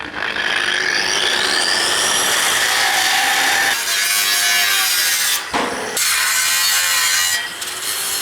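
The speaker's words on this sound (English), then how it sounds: "Now I'm ready to grind it." Power tool cutting into a metal workpiece during tiny home construction, a loud continuous abrasive whine that holds for about eight seconds, with two short breaks where the disc lifts off before biting again.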